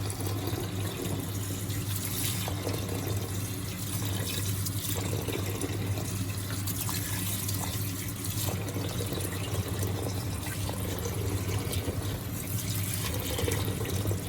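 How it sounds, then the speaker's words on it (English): Tap water runs steadily into a bowl of brown lentils, a continuous close splashing and trickling with a low hum underneath, no voices. "run fresh water over the top and let the water run clear"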